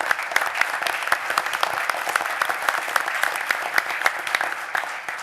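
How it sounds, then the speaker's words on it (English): Audience applause at a university Board of Regents meeting for a visiting congressman: brisk, dense clapping from a roomful of people, continuous and fairly loud, with a few sharper claps standing out and no voices. "Let's give him a round of applause."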